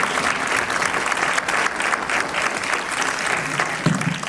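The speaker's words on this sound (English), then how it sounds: "One more round of applause for Dr. William" An audience claps steadily after a conference closing keynote, dense sustained applause filling the room throughout with little variation.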